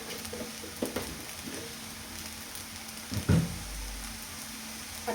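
Sabudana khichdi sautéing in ghee in a pan, a steady soft sizzle with a few scraping stirs and a louder clatter partway through, close and alone without talk.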